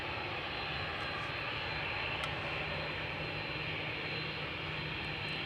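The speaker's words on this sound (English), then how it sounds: "Now, taxiing to the runway threshold, we have Shamrock Aer Lingus going to Dublin, A320" Aer Lingus Airbus A320 taxiing at Amsterdam Schiphol toward the runway threshold, a steady distant jet engine roar and hiss holding constant throughout, faint and unbroken, with no voices.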